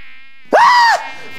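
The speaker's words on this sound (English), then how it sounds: "It's buzzing." A buzzing bee sound effect, one loud, close, steady insect-like drone lasting about half a second after a quieter tonal hum, used in a comedy skit.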